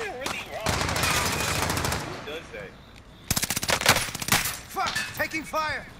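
Gunfire in a first-person shooter match, with long automatic bursts and rapid shots in two main stretches separated by a brief lull, while voices talk over and between the bursts.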